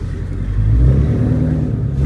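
A Cadillac CTS-V engine revs with a steady, loud low rumble that swells slightly as it's shifted into second with the steering-wheel paddles, heard from inside the car with no talking.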